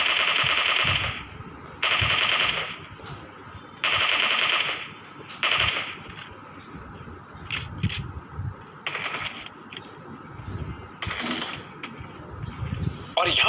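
Rapid automatic gunfire in a battle royale video game, loud bursts of a few seconds each repeating with short gaps, followed by scattered single shots and clicks.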